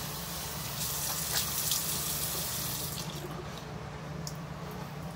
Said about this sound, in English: I need to get some more water on my face.